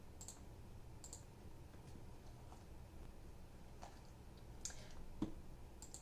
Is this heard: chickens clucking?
no